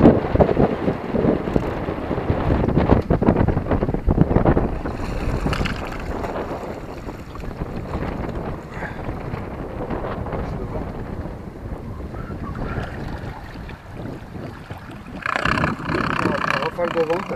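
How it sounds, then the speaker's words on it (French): Strong gust of wind buffeting a fishing boat out on the water, a loud continuous roar of wind noise with waves and talking voices mixed in throughout. "Rafale de vent, t'as vu?"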